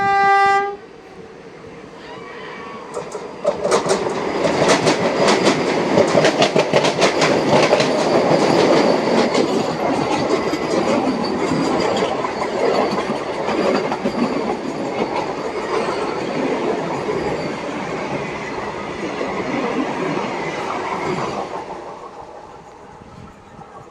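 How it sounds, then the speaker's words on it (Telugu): A Vande Bharat express train passes Guthi Kota railway station, opening with a horn blast, then a long loud rush of wheels clattering and squealing close by, fading slightly toward the end. "గుత్తికోట రైల్వే స్టేషన్ దగ్గర వందే భారత్ వస్తుంది"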